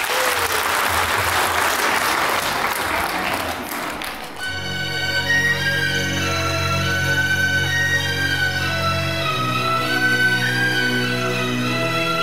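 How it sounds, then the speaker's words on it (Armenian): Warm, dense audience applause greets a dance troupe at a stage concert, holding steady for about four seconds before music takes over. "եկեք ջերմ ծափահարություններով ողջունենք"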